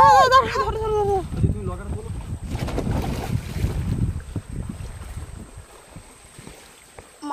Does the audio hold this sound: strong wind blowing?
yes